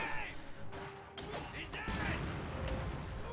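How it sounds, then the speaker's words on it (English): Grenadiers in a video game fire a volley from their rifles: rapid, overlapping crackling shots mixed with heavier booms, in dense, continuous battle noise. "Minesweeper just took a lot of damage right there from a volley from those Grenadiers"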